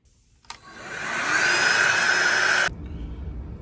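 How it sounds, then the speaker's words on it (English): A handheld vacuum whirs loudly and steadily for about two seconds while cleaning an HVAC grill cover, starting abruptly and stopping sharply. "The easiest way to clean your grill cover is to use a handheld vacuum."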